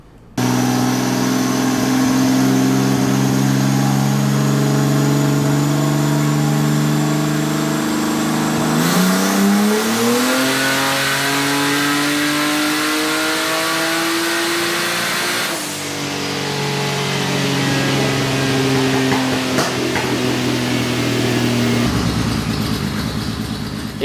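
Race car engine running hard on a dyno, loud and steady throughout, with rising and falling engine tones as it revs through the pull and eases off near the end.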